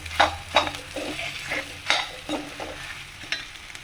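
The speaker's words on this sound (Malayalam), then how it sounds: "നമ്മൾ കുഴച്ച് വെച്ചിരിക്കുന്ന ഉരുളൻകിഴങ്ങൊക്കെ ഇട്ട് കൊടുത്തു അത് നല്ലോണം മിക്സ് ചെയ്തെടുക്കാം" Mashed potato is mixed into frying onions for aloo paratha filling, repeated scraping and tapping of a spoon against the pan over a soft sizzle, close and irregular.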